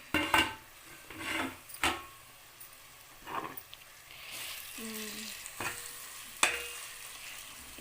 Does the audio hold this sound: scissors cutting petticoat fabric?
no